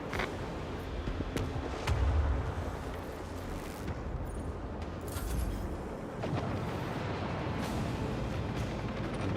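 Macro cannons firing in the Rogue Trader space battle game, a sustained, dense barrage of deep booming blasts and rumbling explosions that rolls on steadily, with heavier surges partway through.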